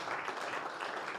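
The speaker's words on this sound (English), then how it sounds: "A round of applause as Gel goes to the podium" An audience at an investor summit applauds as a speaker walks to the podium, a steady wash of many hands clapping, fairly faint and distant, with no voices over it.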